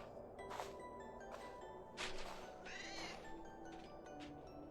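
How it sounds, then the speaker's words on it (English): A cat meows in a festive indie video game, several short mewing calls rising over steady background game music and ambience, fairly quiet and with no talking. "I heard a cat."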